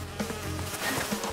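Bees buzz in a steady, close drone in the video game Crash Bandicoot 2, a short continuous hum with slight wavering and no voices.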